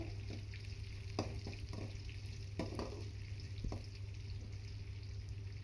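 Onions and four green chillies frying steadily in a pan, a constant close sizzle with a few clicks and stirring knocks, no voices.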